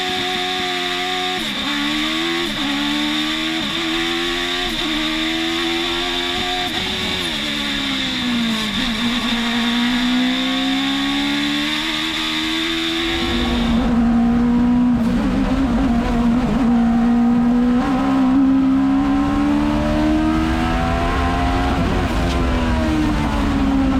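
A two-wheel-drive race car climbs Mt. Washington at the Climb to the Clouds 2021 hill climb: a loud, close engine wails through rising and falling revs with gear changes, growing heavier and fuller partway through.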